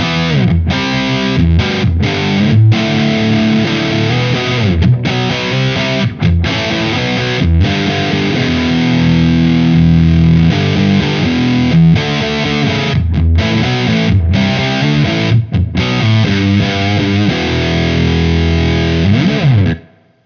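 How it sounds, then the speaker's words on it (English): Electric guitar through a Synergy BMAN preamp with the gain turned up, giving a thick, fuzz-like distortion. Loud, sustained riffs and chords play alone for about twenty seconds with short choppy breaks, then cut off at the end. "The mids and run the gain up, it almost sounds like a fuzz pedal."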